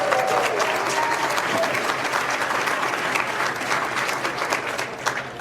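An indoor audience applauds steadily for several seconds, dense clapping from a sizable crowd that stays fairly even before easing off slightly at the end.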